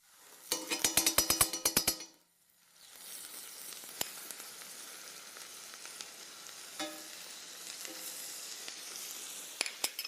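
Rösti frying in butter in a pan, a steady close sizzle with occasional small crackles, preceded by a quick burst of rapid metallic clinks at the start before the frying settles in alone.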